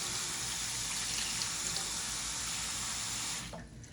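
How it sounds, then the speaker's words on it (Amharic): Cold water pours from a tap over a cup of rinsed quinoa, a continuous close splashing rush that holds steady and then stops just before the end. "ቀዝቃዛ ውሃ እላው ላይ እንደዚህ ለቅበታለሁ።"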